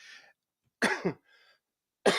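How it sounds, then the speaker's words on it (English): A short double cough from a lingering cough, a brief pause, then another cough starting, close and fairly loud against a quiet background. "I have a lingering cough"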